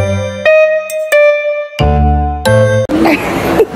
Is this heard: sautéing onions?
no